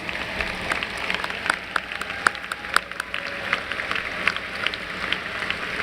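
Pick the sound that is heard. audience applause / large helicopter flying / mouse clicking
audience applause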